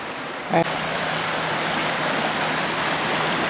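A creek swollen with runoff rushes past in a steady, close broadband wash of flowing water. A brief dull knock comes near the start.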